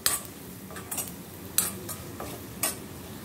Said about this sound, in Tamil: இப்போது மசாலா வந்து எண்ணெயில் லைட்டாக வதங்கட்டும்.